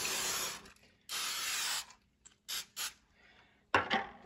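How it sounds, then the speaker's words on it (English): Several short hissing bursts of cooking spray greasing a pan, two long and a few quick ones, close up in a quiet room. "I'm just gonna use a cooking spray."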